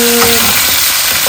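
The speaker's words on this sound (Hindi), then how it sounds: "5 से 10 मिनट हम इसको फ्राई करेंगे ऑयल में तेज आंच पे।" Chicken frying in oil on high heat, a continuous close, loud sizzle with no voices over it.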